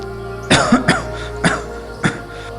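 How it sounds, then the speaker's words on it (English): A child's coughing fit in a bedtime story: several sharp, loud bursts spaced over about two seconds, separated by brief pauses, with no talk. "And coughed it out."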